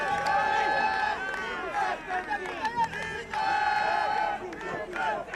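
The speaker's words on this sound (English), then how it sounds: "Shout out to the boys from Uganda over there cheering on Kenya." Fans cheer and chant for Kenya at a men's U21 World Championship lacrosse match against Poland: a loud, sustained crowd roar with shouted, sung calls rising and falling across the stretch.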